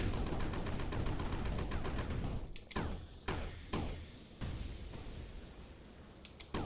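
Gunfire in the sandbox game Sandustry: a dense, steady crackle of rapid shots fills the first seconds, then a few sharp, louder separate blasts punctuate a quieter stretch, with no talking.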